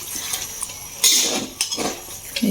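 Chicken stirred in a metal pan, a few clinks and scrapes of a utensil against the pan with soft wet sizzling in between, close and fairly loud.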